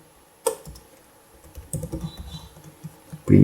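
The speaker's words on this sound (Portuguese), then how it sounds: "Eu dei um Ctrl S para salvar." Scattered keystrokes on a computer keyboard, a few taps with quiet gaps, ending in a sharper louder press as if hitting a save shortcut; close and fairly quiet, no talking.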